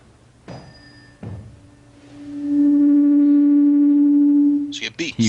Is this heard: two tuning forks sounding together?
yes